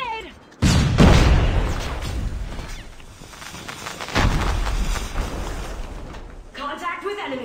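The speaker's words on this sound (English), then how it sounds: "Grenade!" A grenade blast and gunfire in a military shooter game, with a loud boom followed by a second heavy burst and rolling rumble, close and dominant, with brief voice callouts near the end.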